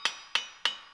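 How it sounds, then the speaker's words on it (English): A brass hammer tapping a Nissan axle during a wheel bearing job, four sharp metallic taps in an even rhythm about a third of a second apart, each ringing briefly, close and alone. "Always hit it with the brass hammer, because the brass hammer is softer than this metal"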